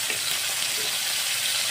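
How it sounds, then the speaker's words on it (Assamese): Chopped onion and green chilies fry in refined oil in a pan, giving a steady, close, hissing sizzle with no pauses. "পিঁয়াজ আৰু জলকীয়াখিনি অলপ ভাজি ল'লোঁ"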